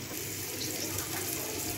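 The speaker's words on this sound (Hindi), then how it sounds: "थोड़ा सा मैं डालूंगी इसमें पानी," Water is poured steadily into a hot clay cooking pot, a continuous, even splashing rush heard up close with no talking.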